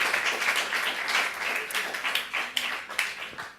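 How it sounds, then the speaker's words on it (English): An audience at a strings and jazz workshop claps for Margaux, a steady patter of applause with some individual claps standing out, continuing for several seconds. "Please clap for Margaux."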